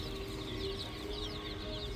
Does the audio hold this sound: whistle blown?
no